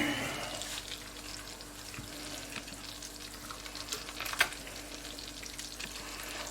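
Ground beef fries in a large pot for a lasagne, giving a soft, steady sizzle and crackle. A few stirring scrapes come through, and the sound stays quiet and close with no talking.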